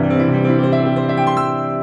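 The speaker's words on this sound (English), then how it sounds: "This is the sound of Yamaha's 9-foot concert grand, their finest acoustic instrument." Yamaha Clavinova CLP 685 digital piano playing its CFX 9-foot concert grand sample, with rich sustained chords ringing clearly and loudly with no talk over them.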